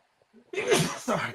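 A single sharp sneeze bursts out close and loud after a short indrawn breath, trailing into a brief second gasp.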